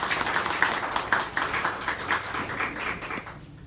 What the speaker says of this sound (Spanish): Por favor, un aplauso para el doctor